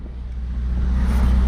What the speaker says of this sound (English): literally just driving this car down the road right now